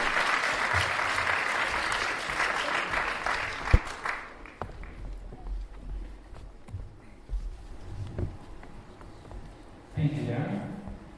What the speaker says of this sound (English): Big round of applause for Darren Cook